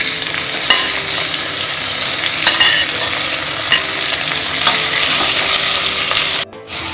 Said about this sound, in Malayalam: വെളിച്ചെണ്ണ നന്നായിട്ട് ചൂടായിട്ടുണ്ട്. അതിലേക്ക് നമുക്ക് സവാള ചേർത്ത് കൊടുക്കാം.